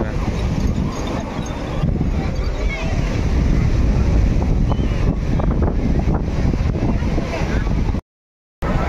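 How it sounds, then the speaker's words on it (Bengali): Sea breeze blows at Digha beach, a continuous loud, gusty rumble buffeting the microphone, with faint voices in the background and a brief dropout near the end. "বিচের ধারে বসে আছি। বসে বসে হাওয়া খাচ্ছি"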